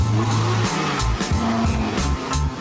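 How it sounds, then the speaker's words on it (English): A car's engine revs hard with tire squeal and skidding, loud and close, rising and falling in short bursts with no talking. "This is a paid-for Surge365 company car."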